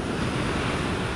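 Rough sea waves surge and churn against the Lisbon coast in a continuous, loud, broadband roar, with wind buffeting the microphone throughout.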